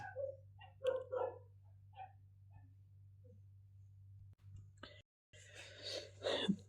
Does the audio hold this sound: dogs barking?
yes